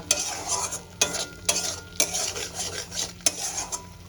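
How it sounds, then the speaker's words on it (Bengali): Ground spices sauté in oil for a catla fish curry with potato, a soft sizzle punctuated by regular, crisp scrapes and knocks of a spatula against the pan, close and rhythmic. "সব মশলাগুলো দিয়ে আমি এবার কষাতে থাকবো"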